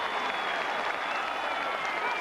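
An Australian football crowd at a 1998 North Melbourne versus Western Bulldogs match keeps up a continuous distant roar of cheering and clapping, with a thin high whistle tone running beneath.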